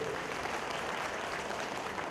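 An audience at a Bhimotsava festival event claps steadily, a dense, even wash of applause that carries on without a break at moderate volume.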